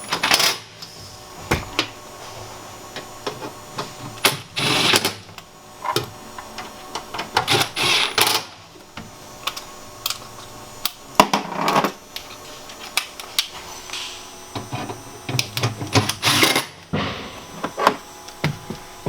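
Torx T30 screws being driven down on a fuse block cover inside a Sprinter van, heard as intermittent bursts of whirring and ratcheting clicks separated by quiet gaps.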